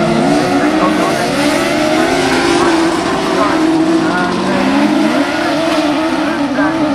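Autograss race cars charging into a turn at Bredon Hill, engines roaring and shifting pitch close by with tyres scrabbling, while a commentator talks over the steady racket.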